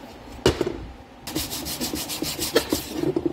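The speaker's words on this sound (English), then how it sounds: "so I'm gonna start sanding on it and uh, see what happens." Sandpaper rubs steadily over the housing of a homemade Ghostbusters siren prop, in close, rasping back-and-forth strokes that start after a brief pause, with no talk.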